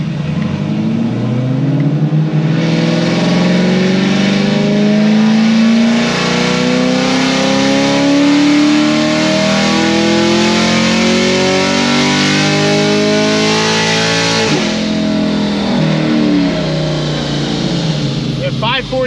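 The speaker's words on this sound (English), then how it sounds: "I'm gonna make one more pull and rev it higher because I let out a little early" A car engine with its exhaust valves closed revs hard and climbs steadily in pitch through a long dyno pull, loud and continuous, then drops off sharply near the end before settling into a lower drone.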